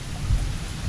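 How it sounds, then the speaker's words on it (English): Steady rain with a low rumble of thunder during a thunderstorm around a home, a short, continuous wash of noise at moderate distance with no voices. "A rainstorm and thunderstorm."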